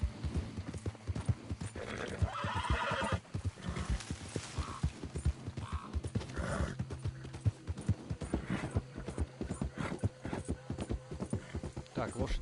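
Horse hooves clip-clop steadily with an occasional whinny in Red Dead Redemption 2, set in a swampy area, running through the whole stretch beneath frequent talking.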